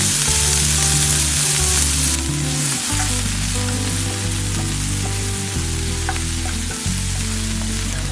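Onion and green chillies frying in hot oil with mustard seeds, a steady close sizzle running the whole time with a brief stir partway through and no voices.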